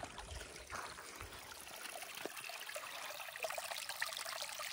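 Gently flowing stream water after rain trickles and burbles softly, faint and steady, heard alone without speech.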